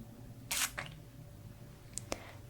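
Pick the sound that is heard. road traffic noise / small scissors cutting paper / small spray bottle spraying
small spray bottle spraying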